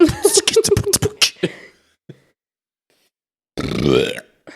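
A long, loud burp rumbles out after a quick run of sharp vocal bursts, then near silence, with a short second burp near the end.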